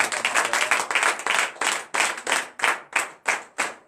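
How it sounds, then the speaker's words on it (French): A church congregation claps hands in acclamation during a morning prayer service, a lively rhythmic burst of applause that turns into steady, evenly spaced claps. "acclame encore mon Dieu ce matin."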